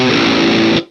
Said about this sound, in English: It sounds like it has like an inbuilt tube screamer that removes the low end before the distortion and makes it sound tighter and a little more modern.